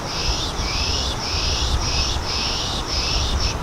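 Repeated raspy, hissing bursts in a steady rhythm, a person pishing to imitate general bird mob calls, like an angry bird, over a faint outdoor background in Columbus Park, Chicago, during fall migration.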